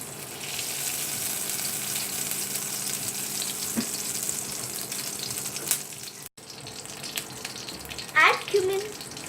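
Butter and a little oil frying in a pan for egg masala, a steady close sizzle under some background noise, with a brief louder clatter near the end.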